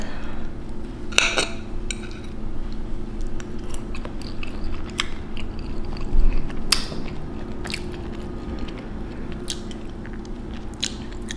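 Someone bites into a freshly baked biscuit, soft inside and a little crunchy outside, giving several sharp crunchy bites followed by quieter chewing, close to the microphone with no talking.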